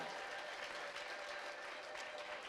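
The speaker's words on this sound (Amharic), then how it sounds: "ብዙ እልልታ፣ ብዙ ጭብጨባ ለጌታ ስጡት።" A church congregation claps and ululates in praise, a dense steady wash of applause with a sustained high trilling ululation running through it for the full few seconds.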